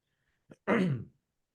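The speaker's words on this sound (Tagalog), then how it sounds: "Inuubo ko." A single short cough or throat-clear, close and fairly loud, preceded by a faint brief catch of breath.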